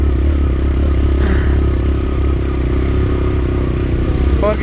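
Motorcycles on a mountain road, a loud continuous engine drone with rattling clatter, close and steady throughout.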